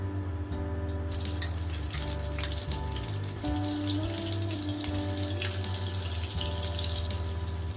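Butter melting in hot oil in a pan for paneer bhurji gives a continuous crackling sizzle with fine spattering pops, steady and close, with a faint background hum and no talking.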